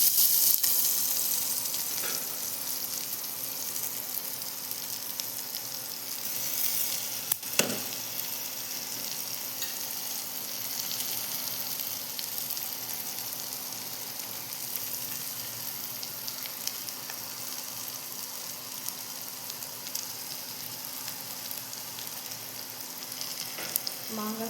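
Onions sauté in a pan for mango rice, giving off a steady, soft sizzle with a few brief stirring scrapes and no talking.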